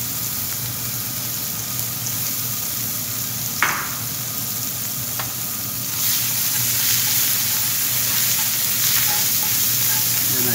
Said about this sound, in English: I put my shallot inside now. I saute my shallot.